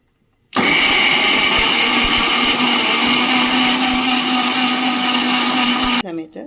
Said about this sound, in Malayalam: ഇനി ഞാൻ ഈ നേരത്തെ കുതിർത്ത് വെച്ച കാഷ്യൂ നട്ടും ബ്രൗൺ നിറമാക്കി വഴറ്റിയെടുത്ത ഒനിയനും കൂടെ മിക്സിയുടെ ജാറിലേക്ക് ഇട്ട് നല്ല പേസ്റ്റ് രൂപത്തിൽ ഒന്ന് അരച്ചെടുക്കണം